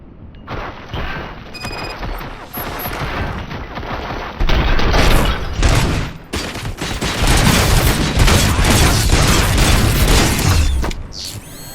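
Gunfire in the RoboCop: Rogue City video game, a loud, sustained barrage of rapid shots and booming impacts over a heavy mechanical rumble, dense and continuous with no talking.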